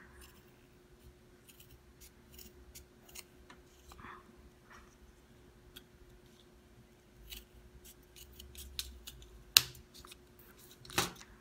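Small scissors snip quietly a few times amid soft handling clicks, cutting open a used ear candle, then two sharper louder cuts near the end.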